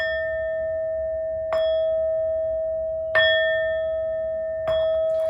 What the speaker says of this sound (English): These next 4 bell sounds are to align us and to bless this reading.